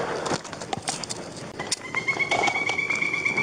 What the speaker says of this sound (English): See, you heard the bird?